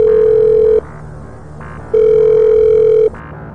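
Outgoing telephone call signal: two long, steady ringback tones about a second each, separated by a pause, clear and alone with no talking.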